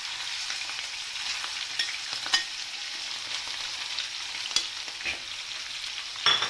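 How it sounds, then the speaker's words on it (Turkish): Meat for saç kavurma fries in hot oil with a loud, continuous hiss and crackle, broken by a few clacks from stirring. "Etimizi verdikten sonra güzel bir şekilde kavuracağız"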